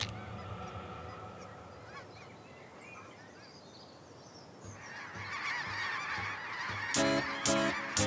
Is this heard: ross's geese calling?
yes